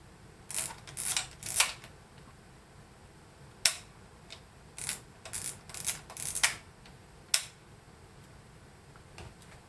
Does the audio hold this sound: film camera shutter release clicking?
yes